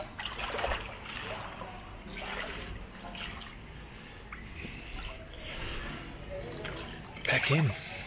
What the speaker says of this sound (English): Waterfall feature.